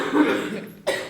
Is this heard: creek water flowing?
no